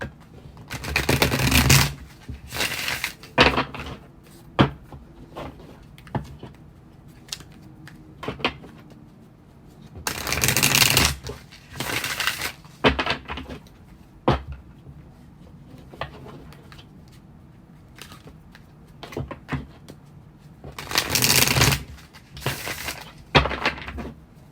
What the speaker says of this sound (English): I'm just shuffling my cards, preparing them.